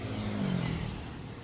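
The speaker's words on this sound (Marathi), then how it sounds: "स्कूटर बघा." A scooter passes near a gate, its engine whirring up briefly and then fading as it moves away, moderately loud and gone within a second or so.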